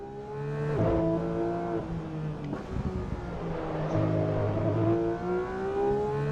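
A race car engine in Assetto Corsa EVO at the Nürburgring, revving through rising pitch sweeps with gear shifts, loud and close with repeated accelerations and brief drops between.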